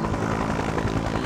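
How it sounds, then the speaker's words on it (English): A helicopter flies in the video game Just Cause 3, its rotor and engine making a steady, continuous drone that stays loud and even for the whole short stretch, with no talking. "This helicopter can do almost anything."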